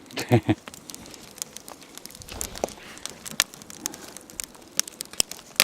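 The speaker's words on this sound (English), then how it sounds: "Well, my fire is going." A small fire crackles and pops with sharp, irregular snaps over a soft, steady hiss, close by and fairly quiet.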